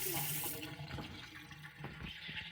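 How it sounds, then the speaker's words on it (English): Water runs steadily from a tap as a bowl is rinsed, with a continuous splashing wash and faint clinks, close by and fairly quiet throughout. "I gotta rinse my bowl"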